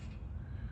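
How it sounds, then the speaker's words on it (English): A large crow cawing, heard outdoors as one faint, short, distant call. "Whoa, that is a big old bird up there."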